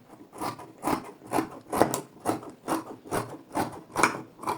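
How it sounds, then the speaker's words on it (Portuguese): Sewing scissors cut through a fabric skirt waistband in a steady series of about nine close, crisp, rhythmic snipping strokes. "Essa minha tesoura tá pegando"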